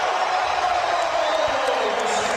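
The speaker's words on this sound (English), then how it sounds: "And the crowd responds" A big arena crowd at the 2003 NBA All-Star Game roars and cheers after a Michael Jordan basket, a loud, steady wash of noise that holds for a couple of seconds.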